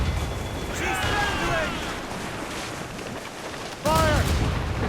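Naval cannon fire in the Assassin's Creed Rogue game arrives as rumbling booms and a steady roar of battle, with a sudden loud blast near the end, while voices shout orders over it.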